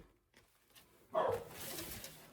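A dog barks once, faint and somewhat distant, in a burst of noise that stands out against a quiet room.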